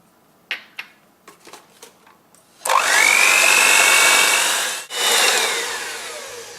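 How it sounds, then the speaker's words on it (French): A few light clinks of egg cracking and utensils come first, then an electric mixer whirs loudly and continuously, beating three eggs with sugar and vanilla into a foamy mix. The mixer briefly dips and restarts. "on casse les 3 œufs et on va les battre avec le sucre"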